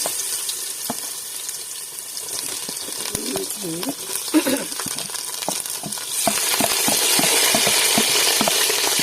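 Mustard seeds spluttering in hot oil for a mixed pickle, giving a crackling sizzle with scattered pops and stirring scrapes; a voice speaks briefly partway through, and the frying grows louder toward the end.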